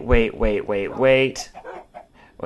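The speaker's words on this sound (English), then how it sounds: "Wait, this gets powered, releases the chickens" Minecraft chickens released by a powered redstone contraption give a quick run of four clucks close up, then fade into fainter, scattered sounds.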